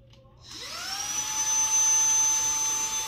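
Kalorik Home handheld vacuum with floor extension switching on, its motor spinning up after a brief pause into a steady, loud whine with a high pitched tone that holds to the end.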